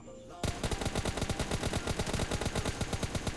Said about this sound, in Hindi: पीछे से भी कुछ गन साउंड आ रहे थे भाई